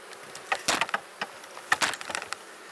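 Honey bees at an opened beehive, several loud close buzzing bursts rising and fading against a steady low hum of the colony.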